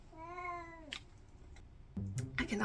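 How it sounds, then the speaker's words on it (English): A house cat lets out one clear, drawn-out meow close by, followed by a few soft knocks and rustles in an otherwise quiet room. "I cannot believe this cat today."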